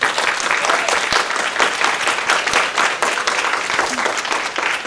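A large audience gives Chancellor Nancy Cantor a sustained ovation at a community research event, with thick, even applause from many hands and occasional sharper claps, continuing without a break.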